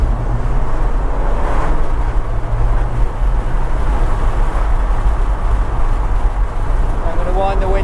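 Alfa Romeo 4C engine droning steadily from inside the cabin, driven in manual gearbox mode on the dynamic setting, a low continuous rumble with a slight swell around the middle.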